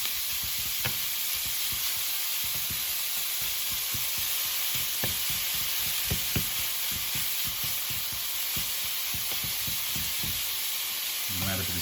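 Mince dry fries in a pan without oil while being prepared for samosas, producing a continuous close sizzle broken by scraping stirs.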